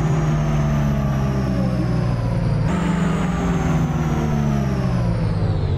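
A car engine in a Roblox game, a Toyota Supra, roars steadily and loud, its pitch climbing gradually as it accelerates, briefly shifting gear midway before rising again.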